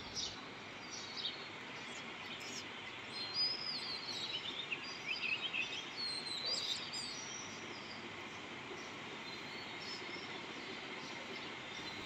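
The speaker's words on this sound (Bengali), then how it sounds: "কি মনোমুগ্ধকর পাখির ডাক সেই সকালবেলাটা।" Birds chirp and sing faintly at a distance over a steady low background hum, heard from a balcony at dawn, with no talking.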